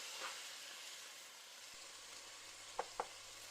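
Black pepper and salt fry in a pan as the base for pancit bihon, with a steady close sizzle and two sharp utensil clacks near the end; no one speaks.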